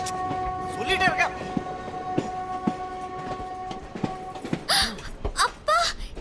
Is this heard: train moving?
yes